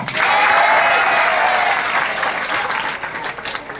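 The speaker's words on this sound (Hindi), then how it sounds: "तो एक बार खुद के लिए ताली बजाओ।" A room full of children claps at once at the Allen Institute, a loud burst of applause that holds steady, then gradually thins and fades.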